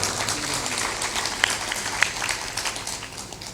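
Audience at a satsang gathering in Meghouna, Khagadiya, Bihar, clapping in a soft, loose, unenthusiastic patter over a murmuring hall, with a couple of sharper isolated claps standing out.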